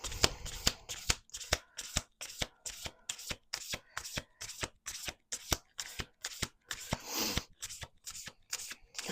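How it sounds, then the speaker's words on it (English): A deck of tarot cards being shuffled close up in quick repeated riffles, a rhythmic run of crisp papery flutters and snaps lasting the whole stretch with short gaps between bursts, fairly quiet, with no voices. "I'm going to keep shuffling"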